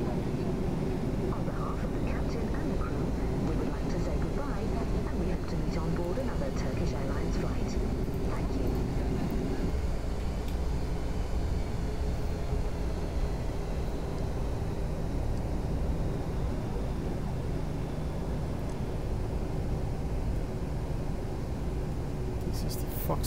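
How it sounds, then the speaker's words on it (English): A simulated airliner taxis along a runway in Microsoft Flight Simulator X, its steady low engine hum and rumble continuous throughout, with a faint background murmur. "I'm gonna continue taxiing on the runway and make a backtrack, turning back on the runway"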